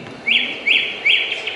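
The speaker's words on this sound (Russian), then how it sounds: "Соловьи незаморские, наши." Nightingales sing in a series of three bright, rising chirped phrases at a regular pace, close and clear against a quiet background.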